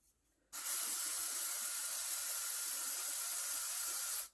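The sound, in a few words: aerosol spray hissing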